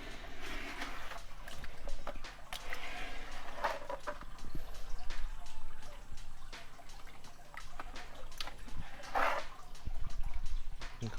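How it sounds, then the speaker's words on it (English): Sand poured from a jug splashes and trickles into aquarium water, a soft uneven wash of drips and gurgles with a few sharper splashes, close and quiet. "A scoop of sand, get it in there."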